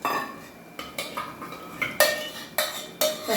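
A ladle stirring dal in a metal pot, with a series of sharp clinks and scrapes against the rim, close and clear.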